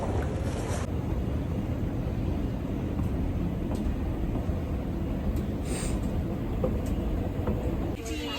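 An Amsterdam metro train on a rainy day, a steady low rumble with broadband wind-like roar running continuously throughout, fairly loud and near, with no clear voices.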